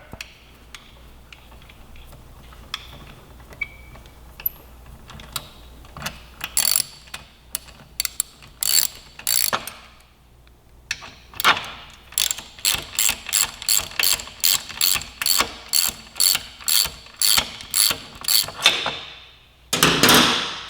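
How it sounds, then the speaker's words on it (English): Ratchet wrench loosening thread-locked bolts on a 2018 Suzuki GSX-R1000 motorcycle: scattered clicks and metal handling at first, then a long run of rapid, loud, close ratcheting clicks in quick strokes. "so we're going to use a ratchet, make our lives a little easier"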